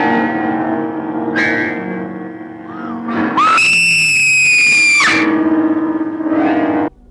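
A woman screams in a scene from the 1968 Mexican horror film El Libro de Piedra, a sharp, sustained shriek lasting about a second and a half, rising out of a dense, echoing musical score that swells before and after it.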